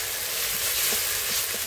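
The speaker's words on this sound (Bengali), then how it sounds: "এবার দিয়ে দেবো বেটে রাখা রসুন।" Ground garlic paste added to oil and fried onion paste on an old earthen stove, a close, continuous sizzle with soft stirring knocks, no one speaking.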